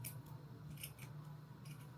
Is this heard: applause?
no